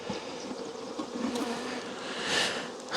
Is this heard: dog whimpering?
no